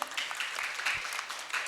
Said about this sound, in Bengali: সকলের জন্য আরও একবার একটা জোরে হাততালি চাইব